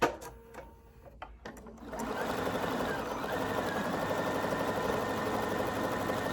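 Bernina sewing machine running with its bobbin door closed: a few clicks and soft handling noises, then a loud, steady mechanical whirr of stitching that carries on to the end.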